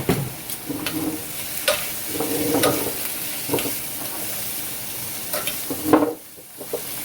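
Spicy vegetables with asparagus, zucchini and squash sizzle in a hot pan, with several brief clattering tosses and stirs over a steady frying hiss, close and fairly loud.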